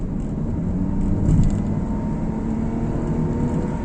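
Daihatsu Rocky 1.2 three-cylinder engine (88 PS) pulling under full throttle, a steady loud low drone with road rumble from inside the cabin, swelling slightly partway through.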